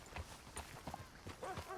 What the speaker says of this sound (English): Look at that horse, man.